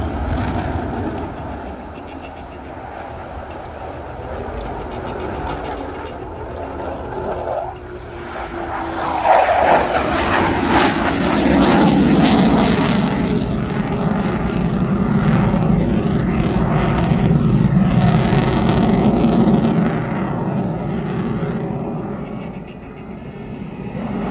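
An aircraft flying a display at the RIAT airshow sends out a loud, sustained engine roar that swells as it passes, with the pitch shifting and then slowly fading.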